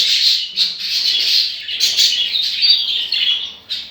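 Budgerigars in an aviary chirping nearby, a dense, loud, continuous chatter of high twittering calls without pause.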